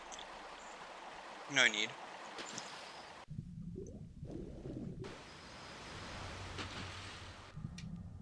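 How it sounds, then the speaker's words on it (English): Waterfall in the 1996 video game Tomb Raider, in the Lost Valley level. It gives a steady rushing wash of water beneath someone talking, with a brief louder burst early on. "So the end of the level is behind that waterfall."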